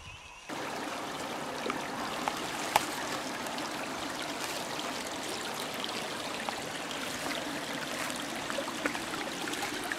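Water from a mountain stream flows and trickles steadily where caustic soda mixes into it near settlement ponds, a continuous close babbling wash with small splashes, fairly quiet and alone.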